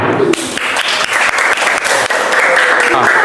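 A classroom of children clapping their hands together, loud close applause with a rough shared rhythm and excited voices mixed in.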